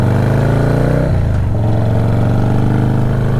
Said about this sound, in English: Let's go ride a motorcycle.